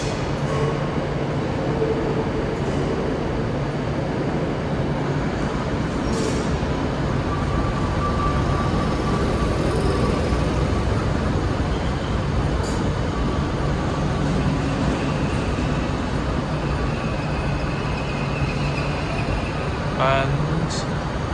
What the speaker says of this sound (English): arriving now is a duo of trains. One 320, one 314, 320 and 316 at the front.